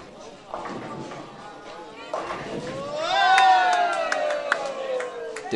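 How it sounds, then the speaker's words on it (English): Local supporters cheer at a bowling final after a strike for a turkey, a swelling burst of crowd shouts and whoops over a commentator's voice. "You can hear the cheer from the local supporters there."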